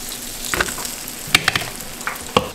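Redfish caught from a pier frying in hot oil, a close crackling sizzle with sharp spitting pops scattered through it. No voices are heard.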